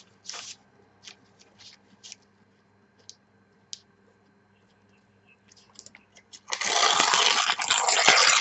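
Scattered soft paper crackles and ticks build into a loud, sustained close-up rip as a sheet is torn along an edge for a journal.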